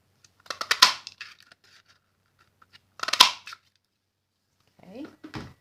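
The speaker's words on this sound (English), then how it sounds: "you need a scrap of old olive and the sprig punch, and you're going to cut out 2 of the sprigs" A sprig punch cuts sprigs from a scrap of old olive cardstock, giving two crisp crunching clusters of clicks a couple of seconds apart, close up, followed by softer handling sounds.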